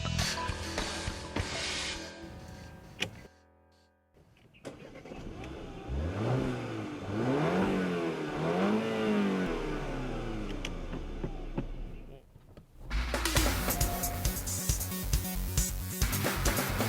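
A Porsche Macan R4 with a turbocharged four-cylinder engine accelerates from inside the cabin, the engine note climbing and dropping through gear changes in a rising, sweeping whine, then a loud burst of revving near the end.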